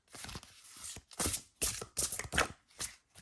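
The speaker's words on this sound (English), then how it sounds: "let me attempt to give them a shuffle" A deck of tarot cards is shuffled by hand up close, several soft papery riffling bursts separated by short pauses, quiet and with no talking.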